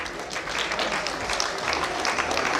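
An audience claps steadily at a sports club's 100-year celebration, a dense, even wash of applause that holds for a few seconds with no break.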